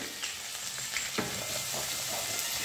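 Onion and curry leaves fry in a pan for a Marathi rava lapsi breakfast dish, a steady close sizzle with small crackles and a stirring scrape partway through, and no voices.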